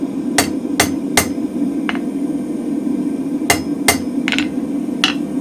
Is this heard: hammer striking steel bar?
yes